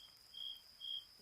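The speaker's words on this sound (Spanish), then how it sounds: "grillos" Crickets chirp in two short, clear bursts against a quiet night background, close and distinct with no talk.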